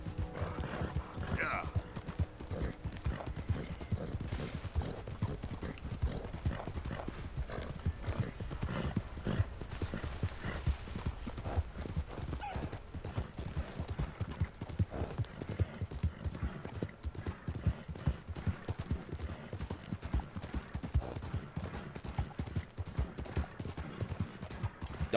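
Horse hooves clip-clop steadily in Red Dead Redemption II, a rapid continuous rhythm of trotting footfalls with an occasional whinny, while a person talks over it at times.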